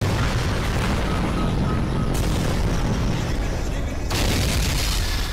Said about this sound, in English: There's so many explosions.